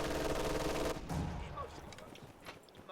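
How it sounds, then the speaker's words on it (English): A 3-inch mortar firing back in Company of Heroes 2, with a dense, heavy barrage of blasts at first that gives way to scattered distant thumps and rumble. "You can see the 3-inch mortar is here, and it's going to immediately start returning fire."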